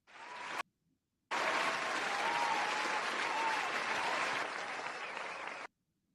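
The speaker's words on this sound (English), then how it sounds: "Give a round of applause." Applause for NFL linebacker Fred Warner, a brief burst, a short gap, then sustained crowd clapping that holds steady before cutting off abruptly.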